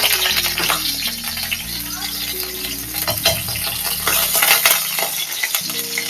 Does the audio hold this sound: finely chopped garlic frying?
yes